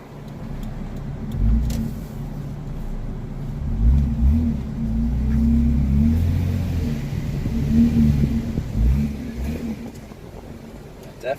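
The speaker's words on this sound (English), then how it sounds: "most of the time Muffler Delete enhances exhaust sound" Lexus GS300 with a muffler delete revving its exhaust, a deep droning rumble rising and falling through several throttle blips, close and loud with some talk over it.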